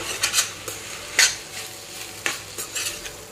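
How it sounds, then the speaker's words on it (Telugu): A spoon stirring and tossing vegetable fried rice with green chilli sauce and vinegar in a hot pan, repeated scraping clinks over a steady sizzle, close with no talk. "ఈ రైస్ కంతా కూడా బాగా కలిపేసుకుందాం"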